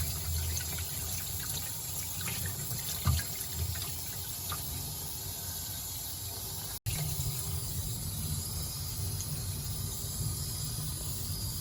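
Water running steadily while the stomach of a freshly caught stocked river trout is rinsed out, a constant close splashing hiss with a brief knock partway through and a momentary cut.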